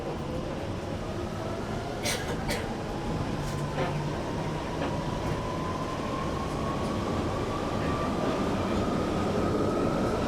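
A London Underground Piccadilly line train rumbles steadily, with a rising whine of motors and faint metallic squeals over the constant roar.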